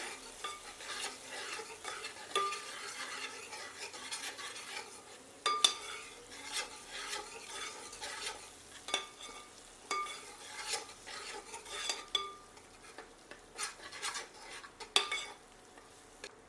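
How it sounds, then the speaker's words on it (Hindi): Onion, ginger-garlic paste and green chilies stir-fried in a pan over medium heat, a soft, quiet sizzle under steady spatula scrapes and occasional metallic taps against the pan. "इन्हें प्याज के साथ मिलाकर 2 मिनट मध्यम आंच पर भूनते हैं।"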